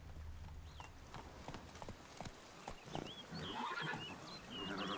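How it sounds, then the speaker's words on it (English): A horse in The Witcher 3: Wild Hunt gallops with steady rhythmic hoofbeats, close and fairly loud, over ambient game sound with no talking. "Run, Roach. Come on now"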